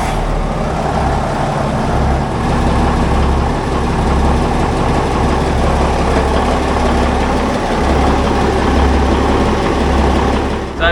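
A boat's engine runs steadily close by during a sea trial, a constant low throbbing rumble with an even, unbroken drone and no voices over it.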